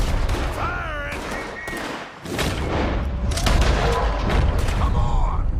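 Gunfire in the video game Red Dead Redemption 2, a dense run of shots and booms mixed with other game noise, with voices talking over the action throughout.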